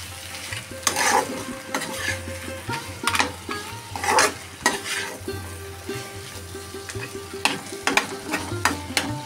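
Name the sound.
stirring fish head murighonto in a pan after adding salt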